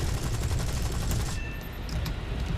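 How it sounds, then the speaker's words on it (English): Rapid, dense bursts of cannon fire from a P-39 fighter in War Thunder pound steadily and loudly, a continuous rattling fusillade that briefly eases before resuming. "love these cannons, man."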